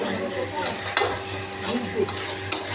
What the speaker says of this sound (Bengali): এখন এখানে মশলা কষানো চলছে